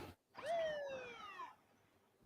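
An ambulance siren from a movie trailer playing back, a single gliding wail of about a second, fairly faint and heard without speech.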